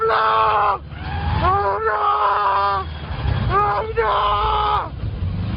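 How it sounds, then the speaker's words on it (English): A man's loud, hoarse, drawn-out scream repeats several times in strained bursts, close by, with rough background noise underneath. "what gives it away as being fake is the scream at the very end."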